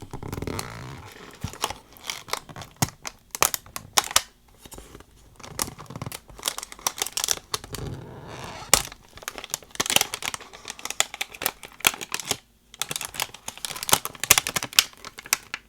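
Stiff plastic packaging on trading card hanger boxes is torn and crinkled open close up, a dense series of loud, sharp crackles and snaps with brief pauses between bursts.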